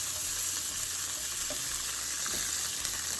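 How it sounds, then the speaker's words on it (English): Asparagus cooking lightly in butter and garlic in a pan gives a steady, close sizzle that runs without a break, with faint stirring movement underneath and no voices. "We want them just lightly cooked in our butter and garlic."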